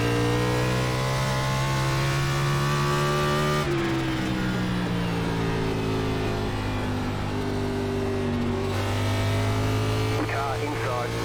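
Stock race cars in an Xfinity Series race at Indianapolis Raceway Park drone loudly and steadily, engine pitch sweeping up and down as they run laps, with a spotter's radio voice talking over the roar.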